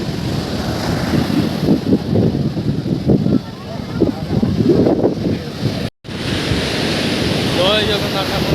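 Sea waves roll in at Chandrabhaga beach as a steady wash of surf, loud and broad, under heavy wind buffeting the microphone, with a voice talking over it.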